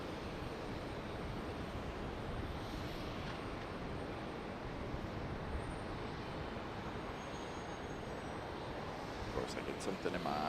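An American Airlines Boeing 777 arriving at Charlotte Douglas airport from Miami, heard as a steady, broad roar of jet engine noise held throughout, with a few faint clicks near the end.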